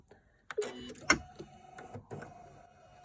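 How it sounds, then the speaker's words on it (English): The automatic needle threader on a Janome Continental M17 quilting, sewing and embroidery machine clicks and whirs briefly up close, with a couple of sharp mechanical snaps followed by quieter clicks. "press my needle threading button, which is here"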